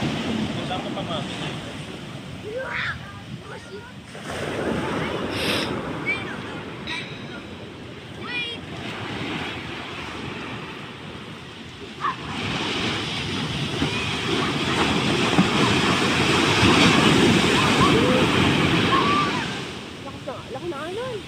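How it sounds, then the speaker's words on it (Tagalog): Big ocean waves surge and crash in a broad, roaring wash that swells louder toward the end, with gusty wind buffeting the microphone and people talking close by throughout. "Laki na alon"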